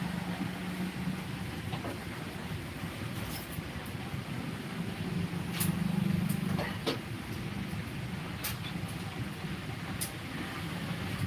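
Heavy rain pours outdoors beside a road, a dense steady hiss with the rumble of passing vehicles swelling and fading beneath it; a few sharper drips and splashes cut through.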